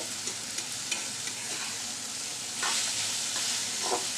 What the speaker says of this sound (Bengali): এই পর্যায়ে একটু ঘন ঘন নাড়াচাড়া করে করে ভাজতে হয়